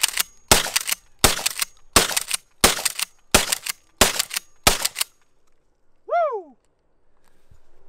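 A Mossberg 590 shotgun fires eight sharp, loud reports at a steady pace about two thirds of a second apart, followed by silence and a short high chirp.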